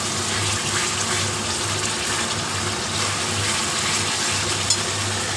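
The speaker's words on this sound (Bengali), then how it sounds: "এবার আমি বাটি ধোয়ার জলটা, মশলা বাটি ধোয়ার জলটা দিয়ে দিচ্ছি।" Spice-bowl rinse water poured into a cooking pot of Kashmiri aloo dum: a steady, moderate splashing pour with a faint sizzle underneath, continuous throughout.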